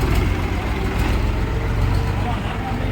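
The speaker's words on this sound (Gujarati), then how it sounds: "તો ભાઈ અહીંયા ટ્રેક્ટર ઉપાડી" A farm tractor engine runs with a steady, loud, low diesel rumble that holds evenly throughout, with faint voices mixed in beneath it.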